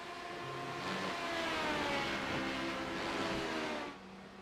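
LMP2 prototype race cars at Le Mans in the iRacing sim, a steady engine drone rising and falling as the cars pass at a distance, fading out at the end.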